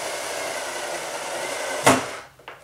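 A RYOBI TEK4 cordless screwdriver on speed two drives a screw without pre-drilling, a steady close motor whir that ends in a sharp knock near the finish, then drops to quiet with a couple of small clicks.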